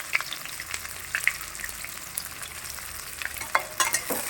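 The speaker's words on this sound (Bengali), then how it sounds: "পেঁয়াজটা লাল করে ভেজে নেব।" Chopped onion sizzles and fries in a pan with whole cardamom, a steady crackling hiss with occasional stirring scrapes, close and unaccompanied by voices.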